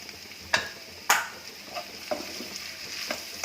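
Potatoes being stirred and pressed in a little oil in a pan over low heat, sharp spoon scrapes and knocks over a soft continuous sizzle, close and without talk.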